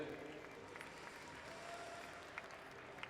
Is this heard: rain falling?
no